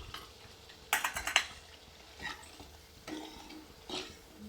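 Spoon clattering and scraping in a pan while chopped tomatoes are stirred into misal masala with coriander powder and red chilli for matki usal, a quick burst of clinks followed by a few soft, scattered scrapes.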